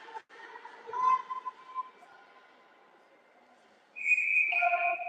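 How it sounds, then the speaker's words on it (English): A referee's whistle at an under-18 ice hockey game gives one sustained, shrill blast that cuts through the quieter rink noise. "Whistle goes."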